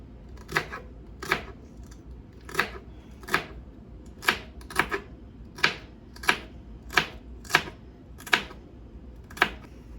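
Knife dicing thinly sliced vegetables on a cutting board, with steady rhythmic sharp chops, about a dozen crisp strikes over a faint kitchen background, close and clear.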